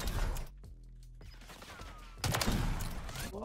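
Modern Warfare 3 gunfire crackles in dense bursts, breaks into a quieter tonal lull, then resumes with a loud burst of shooting near the end.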